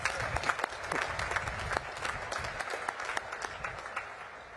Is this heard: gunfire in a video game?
no